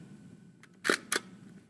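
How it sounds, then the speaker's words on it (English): A film camera's shutter fires with a short mechanical clack, two quick sharp clicks close together, preceded by a faint tick in a quiet room. "It's literally as easy now as releasing the shutter."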